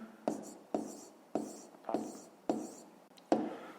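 A pen writes a fraction by hand on paper in six sharp, evenly spaced strokes, each a quick tap followed by a short scratching drag, close and fairly quiet with no talk.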